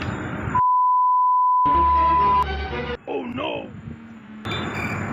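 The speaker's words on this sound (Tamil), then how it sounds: "அது மெசேஜ் ரிங்கிங்டா" A phone's message alert sounds as a steady electronic tone held for about two seconds, loud and close, set among short bursts of other sound and a brief melodic jingle.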